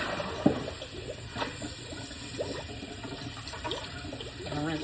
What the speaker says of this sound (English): There's the water that we're dumping out.